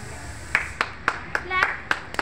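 Nursery and LKG children clapping together in a classroom maths activity: about seven sharp, evenly spaced single claps with a brief voice between them.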